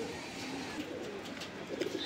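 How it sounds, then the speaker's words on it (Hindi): Punjabi Malwai pigeons coo softly in a village loft in Chhatarpur, Delhi, low murmuring calls repeating under a busy background of rustling and distant noise. "बाकी कबूतरों का भी दिखाते हैं आपको किस टाइप के कबूतर आए हुए हैं"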